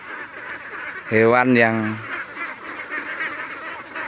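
Ducks on an Indonesian farm, birds that live in water, give a brief honking burst of quacks lasting about a second, close and loud, with someone talking before and after.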